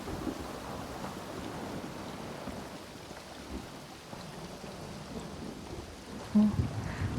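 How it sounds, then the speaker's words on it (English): Steady rain patters in the video game Elder Scrolls Online, with a continuous low rumble of thunder underneath and a brief louder thump near the end. "It's raining."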